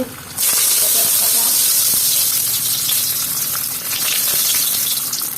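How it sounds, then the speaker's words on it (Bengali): Dry red chili and five-spice (panch phoron) hit hot oil in a pan for a Bengali vegetarian banana-flower curry, setting off a loud, steady sizzle and hiss that starts abruptly and holds close-up without talk. "তেলটা গরম হয়ে গেছে। এখন একটা আমি শুকনো লঙ্কা দেবো, দিয়ে দিচ্ছি 5 ফোড়ন"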